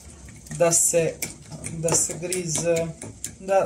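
A semolina dumpling mixture for homemade soup is whisked in a bowl, giving uneven bursts of scraping and clinking. Someone talks over the whisking throughout.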